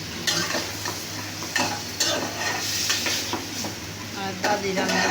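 Potato and taro stolons fry and are stirred in a pan: a steady sizzle with the spatula scraping and clinking against the metal at irregular intervals, fairly close and moderately loud.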